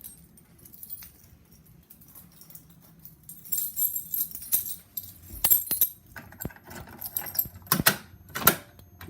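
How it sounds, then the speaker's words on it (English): Keys jangle and clink at close range while a fire alarm pull station is reset, in bursts of metallic rattling over a low background hum, getting busier and louder toward the end. "Keys."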